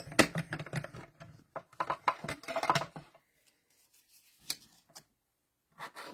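Scissors snip through black cardstock in a quick run of crisp cuts and rustles, then a pause and a few more sharp snips, close and fairly quiet.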